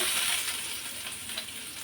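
Chopped onions hit hot oil in a pan during Bengali dal bhorta cooking, giving a steady, close, broadband sizzle that holds evenly throughout, with no voices.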